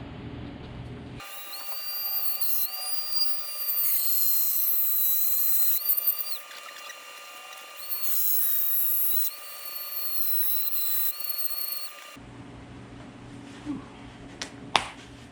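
A Dremel rotary tool cuts through a plastic custom door panel for a 4th Gen Camaro, giving a loud, steady high-pitched whine that dips and rises over about eleven seconds, then stops, leaving faint handling clicks.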